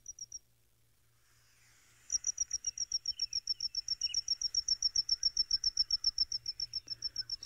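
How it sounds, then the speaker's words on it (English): A pennant-winged nightjar calls on a live safari broadcast. After a brief opening note comes a long, steady run of rapid, high, insect-like chirps in an even rhythm. It is fairly clear against a quiet background. "We get the pennant winged, which sounds like this."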